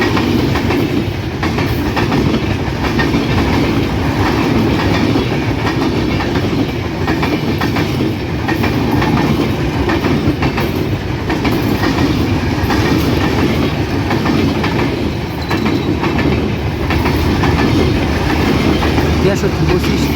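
The Ekota Express passenger train, bound for Panchagarh with 16 coaches, rolls loud and steady through Muladuli railway station on line 2, its wheels and cars making a continuous rumble and clatter throughout.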